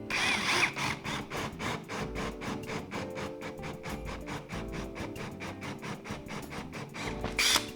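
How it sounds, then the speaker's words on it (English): A drill bores deeper into wood for a swivel cabinet, a steady mechanical whir pulsing with rapid regular chatter, moderately loud and continuous. "We still have to drill a little deeper."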